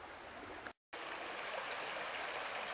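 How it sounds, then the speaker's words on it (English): A small, low-running stream flows steadily with a broad, constant rushing wash, heard up close and uninterrupted except for a brief dropout. "Well, I'm down here in the little stream here."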